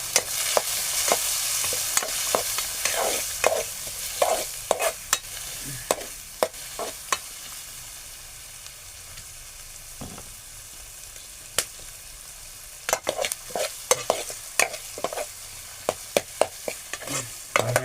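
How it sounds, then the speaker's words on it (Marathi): Onion and tomato being stirred in a hot pan, a soft steady sizzle under repeated sharp scrapes and knocks of a spoon against the metal, close and clear with no talking. "चांगलं आपण ढवळून घेऊ."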